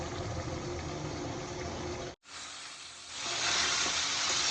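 Chicken pieces and small potatoes sauté in a covered pan with a steady, close hiss and sizzle. The sound drops out for a moment, then returns and grows brighter and louder.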